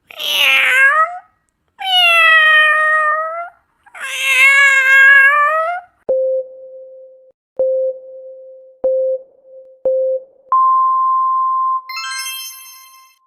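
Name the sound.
cat meowing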